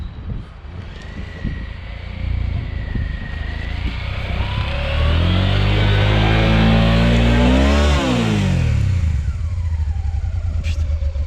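Two off-road motorcycles rev hard to climb a packed snow step in the Margeride countryside, engines climbing in pitch, straining loudly up close, then dropping back and holding at a rough, steady idle-rev.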